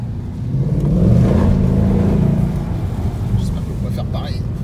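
A 2019 Ford Mustang Bullitt engine revs up and pulls hard, swelling into a loud throaty roar before easing off, with voices talking over it.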